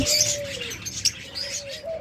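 Soft, low cooing of doves repeats in short phrases, with brief chirps from other birds nearby.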